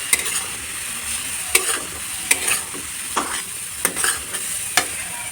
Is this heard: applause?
no